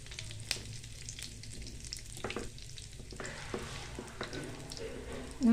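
Cinnamon sticks and three cardamom pods, with cloves, frying in hot oil for a capsicum masala curry, giving a steady low sizzle with a few soft stirring taps and scrapes throughout.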